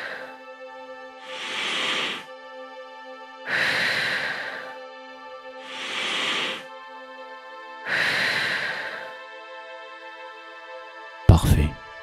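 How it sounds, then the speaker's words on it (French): Slow, deep breaths during a guided relaxation exercise: four long, even inhale-exhale swells, each about a second and a half, spaced regularly over a soft sustained musical drone, followed by a sharp click near the end. "Prends une profonde inspiration et relâche. Fais-le encore 4 fois"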